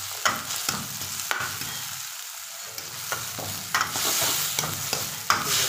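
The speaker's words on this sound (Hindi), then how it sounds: "सबको एक से दो मिनट अच्छे से फ्राई कर लेंगे।" Onion and tomato masala frying in a pan for a dal with green chillies, a steady sizzle broken by repeated scraping stirs and clinks of a spatula, close and moderately loud, with no talking.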